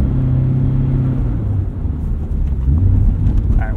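A 2022 Subaru BRZ engine held at full throttle while driving through wet snow and slush makes a deep, continuous rumble with a shifting engine note, loud and close, with no speech.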